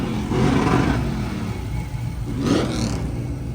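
A car engine fitted with a big blower supercharger revs loudly nearby, with two strong surges rising over a steady rumbling idle.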